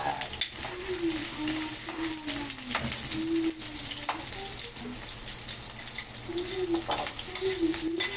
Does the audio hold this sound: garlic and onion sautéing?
yes